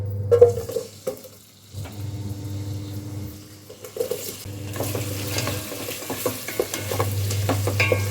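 Onions hit hot oil for paneer pulao and sizzle close up, the frying hiss coming in bursts with quieter gaps and some stirring in the pan.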